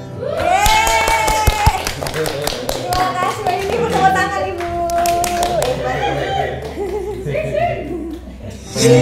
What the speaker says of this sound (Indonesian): tepuk tangan Ibu